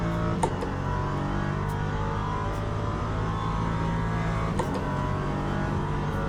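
LMP3 race car in a racing video game, engine droning steadily at high revs throughout with brief gear-shift dips, loud and continuous with no talk.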